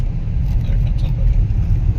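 A car comes along a quiet snowy road, a loud, close rumble of engine and tyres holding steady for about two seconds with no voices over it.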